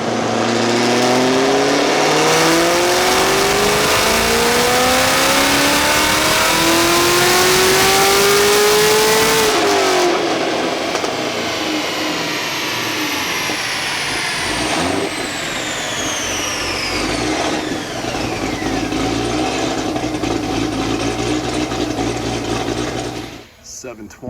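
Whipple supercharged Camaro on a dyno at full power, engine screaming as revs climb steadily for about ten seconds, then cutting off and winding down with supercharger whine fading; voices in the background.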